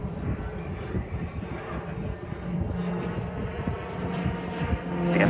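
RAF Tucano turboprop trainer pulling up into a loop at the Southport Airshow, a moderate steady engine drone swelling toward the end, with wind buffeting the microphone.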